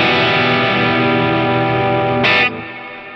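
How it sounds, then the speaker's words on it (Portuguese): Electric guitar through a Line 6 HX Stomp with an impulse response, overdrive and reverb: a sustained, gritty distorted chord rings steadily, swells briefly near the end with a bright pick attack, then drops into a fading reverb tail. "Agora com o IR, né? E usando aqui um overdrive e o reverb."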